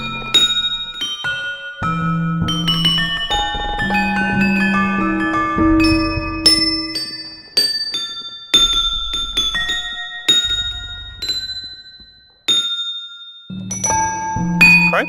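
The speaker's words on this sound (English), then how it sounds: "I can bash the balls, which make bell noises." Hairy balls struck in a video game ring out as bright, bell-like chimes, with overlapping tones sustaining and decaying in a steady, playful sequence of hits, each clear and up front.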